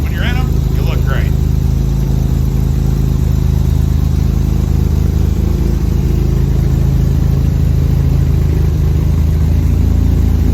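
A 1967 Austin Healey 3000 MkIII engine idles steadily after a cold start, a loud, close, continuous low rumble with no talk over it.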